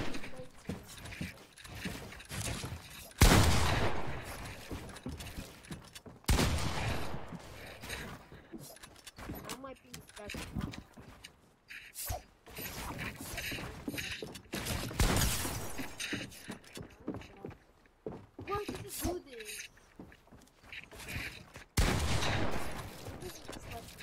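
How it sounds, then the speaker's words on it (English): Gunfire in the video game Fortnite, several sharp bursts of shots and loud impacts spread irregularly with quieter action between, voices talking at times. "I can shoot you through your wall now."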